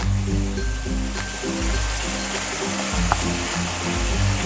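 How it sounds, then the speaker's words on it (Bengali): Spices, with cumin paste, salt and turmeric, being fried in a pan for a Bhola fish curry: a steady, even sizzle running under prominent background music. "মশলাটা এবার দিয়ে দেবো দিয়ে খুব ভালো করে মশলাটা কষিয়ে নেব"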